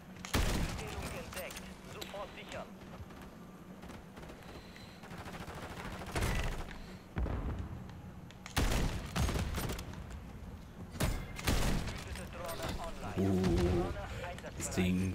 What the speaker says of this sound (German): Jetzt fühlt das sich wie eine Sniper an.